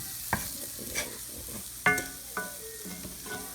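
Garlic and onion fry in bacon grease with paprika, a quiet sizzle broken by several sharp spoon scrapes and clinks against the pan, fairly soft overall with no talking.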